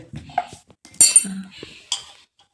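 A metal spoon clinks and scrapes against a bowl while mixing spices, in a few short bursts, with quiet voices speaking nearby.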